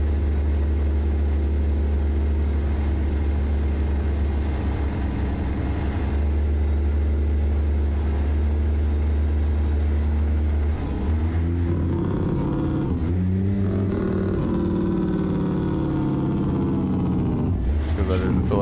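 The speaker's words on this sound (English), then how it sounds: "it's just the C15 MBN engine and sound pack there on that ZEEMODS website" Heavy Caterpillar C15 diesel truck engine from a trucking video game, a deep steady rumble and drone running throughout, loud and close, with a few rising revs and gear shifts toward the end.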